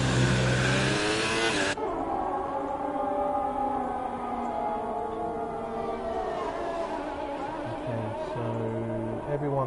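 F1 2018 video game race car heard from off board at Bahrain, a loud sustained high-pitched engine whine with shifting revs and gear changes, continuous throughout, with faint voices underneath.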